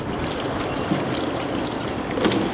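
Water trickles and pours steadily into a seedling tray set up for transplanting, a continuous close wash of liquid with no talking.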